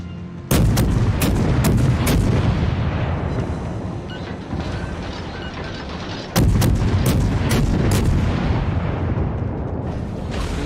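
A Russian Tier II cruiser, the Novik, comes under enemy cruiser gunfire in World of Warships: repeated sharp booming cannon shots in two loud volleys, each burst followed by rumbling that carries through the gaps.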